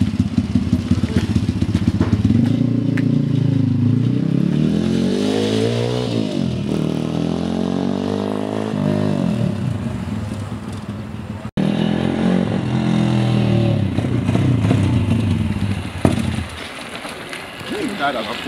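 A pit bike engine revs hard and climbs in pitch as it is ridden at night, rising and falling through several throttle bursts, loud and close, with people talking and cheering over it.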